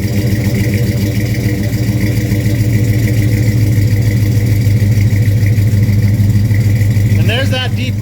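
A Chevy C10 with an aftermarket exhaust idles in a steady, deep, loud rumble, with a brief voice near the end.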